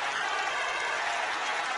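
Football stadium crowd roaring and applauding as Newcastle score their first goal against Tottenham, a dense, steady wall of cheering from thousands of fans with no pause.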